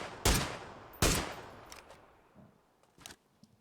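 Sharp gunshots in a battle royale esports match, two loud close blasts early followed by fainter, scattered distant shots fading out.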